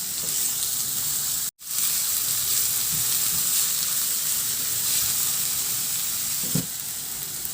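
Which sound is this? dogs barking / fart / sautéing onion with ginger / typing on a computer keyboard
sautéing onion with ginger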